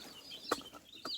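Young chicks clucking softly nearby, a few short clucks and chirps over a quiet background, no talking.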